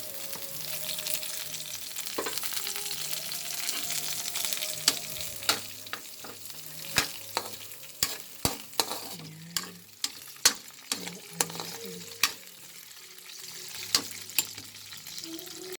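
Garlic, ginger and onion sauté in a pan, a soft steady sizzle broken by scattered sharp clicks and scrapes of a utensil stirring, close and fairly quiet.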